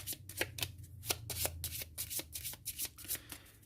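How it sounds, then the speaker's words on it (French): A deck of game cards for the Marvel Champions card game is shuffled repeatedly by hand, giving a close, quiet sequence of quick riffling rustles and flicks with no speech. "Elles sont là, je remélange donc mon deck."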